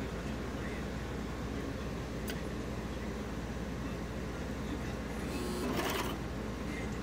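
A Brother coverstitch machine hums quietly and steadily as it chain-binds fabric masks, with a faint higher whir near the end.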